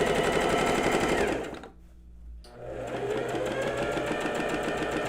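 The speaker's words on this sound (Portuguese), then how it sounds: "A dica é sempre começar e terminar todas as suas costuras com retrocesso" A sewing machine runs stitching a blouse seam, a loud, fast, steady mechanical whir that stops briefly for about a second and then starts again, close up with no voices.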